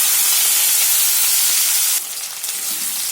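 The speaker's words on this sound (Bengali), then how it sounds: "পেঁয়াজটাকে ভালো করে ভেজে নেব।" Onions frying in a pan while cooking dal fry, a steady loud sizzle and hiss throughout with a slight dip midway, no voices.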